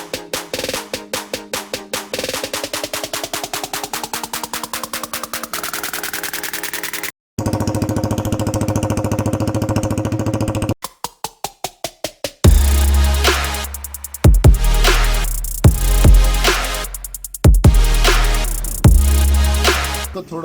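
Yamaha R15 v3 motorcycle fitted with an aftermarket M4 exhaust, revving loudly and continuously with rising pitch sweeps, sharp throttle blips and hard rhythmic bursts, close to the mic with no talking.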